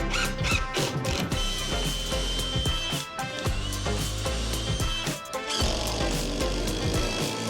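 A power tool driving screws into OSB sheathing inside a shipping container tiny home under construction, with dense ratcheting, whirring mechanical bursts and wood creaks running continuously at close range and steady loudness.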